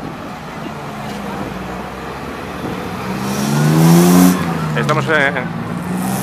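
Classic cars parading past at a classic car gathering in Castrocalbón, with steady traffic rumble and one car swelling close by with a rising engine note before fading, while someone talks over it.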